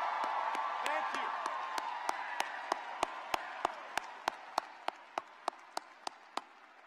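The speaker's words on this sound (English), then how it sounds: "Give it up for those who have served." Crowd at a Georgia grassroots political rally with Barack Obama applauds veterans, with dense sustained clapping and a few whoops. Sharp isolated claps stand out at a steady rhythm as the applause fades.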